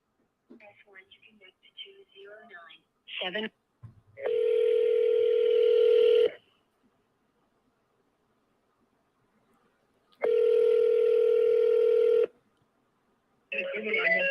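A cell phone call being placed: brief dialing tones, then two long ringback tones separated by silence, loud and close, with someone speaking at the start.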